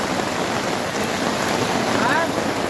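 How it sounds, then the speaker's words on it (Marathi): Steady downpour of heavy unseasonal April rain in the Konkan region, a dense unbroken wash of noise with a faint voice briefly audible beneath it. "एप्रिलच्या महिन्यामध्ये फुल पाऊस लागतोय"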